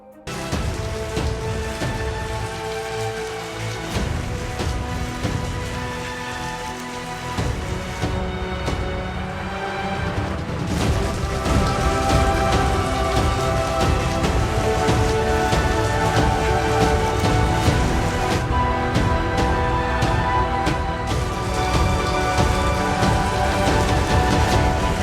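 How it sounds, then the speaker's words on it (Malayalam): Heavy monsoon rain pours down across Kerala, a steady broadband patter that rises and thickens midway, layered under prominent music. "പെരുമഴ തുടങ്ങി, ദുരിതവും തുടങ്ങുകയാണ്."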